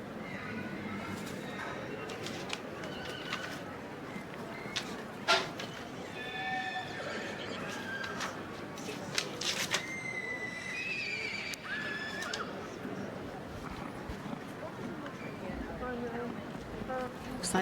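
Section C Welsh stallions in the show ring at the Royal Welsh Show give several shrill, wavering whinnies over a busy crowd and ringside commentary, with faint hoof clopping underneath.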